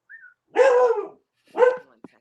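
A dog barks twice at close range, two loud harmonic bursts separated by a short pause, preceded by a faint whine and followed by a small click.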